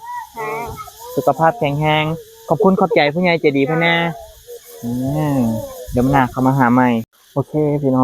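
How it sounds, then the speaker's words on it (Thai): Cicadas buzz outdoors in a steady, shrill drone that runs beneath nearly continuous talking from people close by. "มีแต่เสียงจักจั่น"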